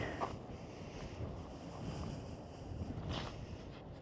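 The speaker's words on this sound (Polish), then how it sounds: "Tymczasem wiatr chce mi głowę urwać" Strong wind buffets the microphone in a continuous low roar on an Icelandic farm, with a couple of brief gusty bursts and no voices.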